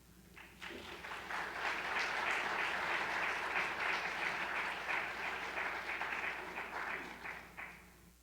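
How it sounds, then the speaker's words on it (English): An audience applauds to welcome an artist and a curator to the stage at an art center talk, steady clapping that swells quickly and holds at full strength for several seconds before thinning out. "please join me in welcoming to the stage artist Henry Payer and curator Beth Gollnick"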